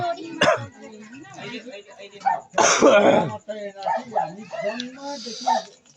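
Talking with a couple of sharp coughs or throat-clearing bursts, one early and a louder, longer one midway, close to the listener.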